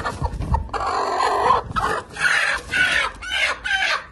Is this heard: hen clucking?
yes